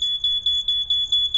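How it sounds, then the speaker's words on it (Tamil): A bike GPS tracker's theft alarm fitted to a Yamaha RX100 gives rapid repeating electronic beeps, about five per second, steady and moderately loud with no other sound. "இங்கே பாருங்கள் பீப் சவுண்டு வந்து தெப்ட் அலர்ட் அப்படின்னு இந்த மாதிரி பாப்அப் ஸ்க்ரீனில் ஓப்பன் ஆயிரும்"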